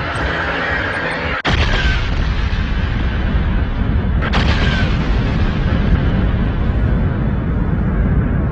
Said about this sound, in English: the star can no longer accommodate it, and eventually explodes in what is called a nova,